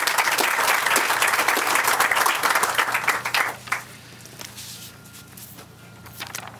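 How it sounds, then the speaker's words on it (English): Crowd applause at an outdoor groundbreaking ceremony, brisk clapping for about three and a half seconds that fades out, leaving quiet ambience with a few stray claps. "let's give them a round of applause"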